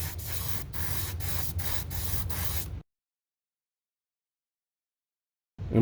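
Bursts of Mr. Surfacer primer sprayed from a spray can onto a Fujimi Dino 246 GTS model kit, several short hissing puffs in quick succession, then silence with a last brief spurt.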